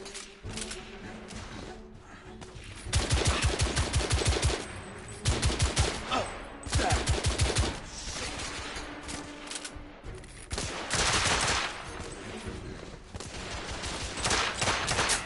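Rapid automatic gunfire from The Order: 1886 comes in several loud, close bursts of sharp repeated shots, separated by short pauses filled with game ambience and low thuds.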